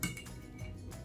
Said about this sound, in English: I'm gonna stir it a little bit just so everything